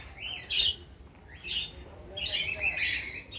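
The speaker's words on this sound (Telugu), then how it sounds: "అన్నీ లవ్ బర్డ్స్ ఉన్నాయి లోపల." Lovebirds chirp in an enclosure, with several bright, close chirps and squawks in short clusters over a steady low background rumble. No voices are heard.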